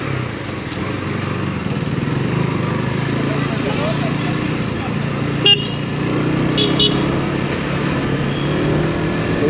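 A KTM 125 motorcycle engine drones steadily while riding in the rain, a continuous low hum with wind rush and road noise, a brief horn toot midway, and a voice talking over it.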